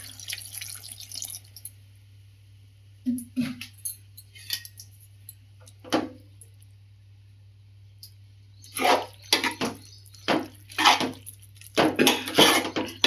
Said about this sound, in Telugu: కొద్దిగా వాటర్ పోసుకోవాలి